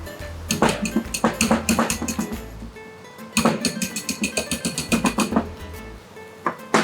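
Seasoning and coriander leaves mixed in a bowl for a veg chermoula grilled sandwich, with a spoon clinking against the bowl in quick repeated close strokes. The strokes come in two bursts separated by a brief pause, with no talking.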